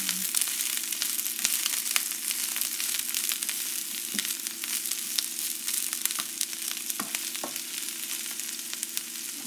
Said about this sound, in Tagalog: Tapos po, igigisan na rin natin yung, ano, yung cabbage.